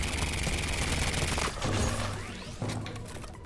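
Rapid gunfire from the video game Superior, dense and loud at first, then dropping out and returning in bursts with shorter crashing hits.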